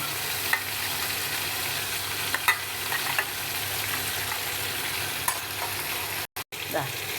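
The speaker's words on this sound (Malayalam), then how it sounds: "എണ്ണയിൽ കിടന്ന് നല്ല കുറച്ചൊന്ന് വേവട്ടെ. നല്ലെണ്ണയാണ് അതിന് ഉപയോഗിക്കാനുള്ളൂ." Lemon pickle pieces, soaked with salt and asafoetida, cook in sesame oil with a steady, close sizzle and faint bubbling crackle throughout, broken by a couple of brief dropouts near the end.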